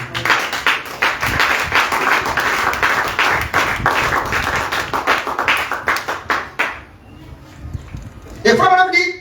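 A church congregation claps and applauds in a dense, lively burst that thins out into scattered claps and fades, with a voice rising at the end.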